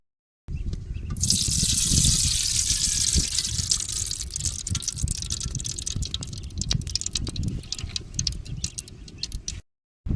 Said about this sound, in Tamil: இப்போ சுத்தமாக நல்லெண்ணெய் ஊற்ற போகிறேன்